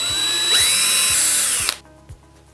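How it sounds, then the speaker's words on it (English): A power drill with a 5/64 inch bit bores through a small wooden disc, whining loudly and steadily for about a second before cutting off, followed by a few faint knocks as the tool is set down. "Start by using a 5/64 inch drill bit to drill a hole near the top edge of all wooden discs."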